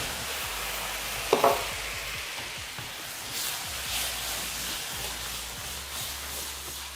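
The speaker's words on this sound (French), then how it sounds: "je vais mettre mon alcool et faire flamber" Alcohol goes into a pan of pepper sauce and is set alight, giving a brief sharp crackle and then a steady sizzling, frying hiss that continues evenly.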